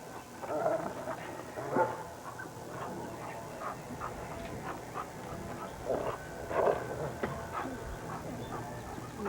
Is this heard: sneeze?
no